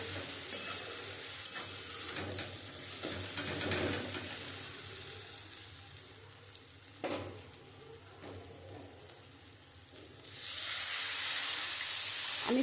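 Spice paste frying in oil in a pan for a jackfruit-seed dhoka curry, stirred with steady scraping and sizzle, then a loud surging hiss and steam burst near the end as water goes in.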